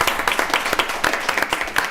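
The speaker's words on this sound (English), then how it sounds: "So I believe she deserves another round of applause." A round of applause at a regular public meeting, a short burst of brisk, dense clapping from a room of people, close and steady.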